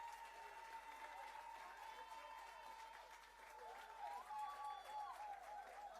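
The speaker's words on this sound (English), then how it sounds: "give him a round of applause" Applause from a crowd at a housing handover ceremony welcoming a prime minister, a steady wash of clapping at moderate distance, swelling slightly toward the end.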